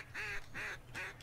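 Ducks quack in a duck hunting video game: three evenly spaced, nasal quacks in a quick rhythm, fairly faint and alone over a low background hum.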